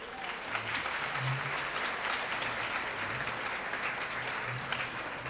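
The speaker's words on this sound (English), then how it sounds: "Let's give it a round of applause" An audience at an annual awards ceremony for a charitable grant organization applauds in a continuous, dense wash of clapping that holds steady and moderately quiet the whole time.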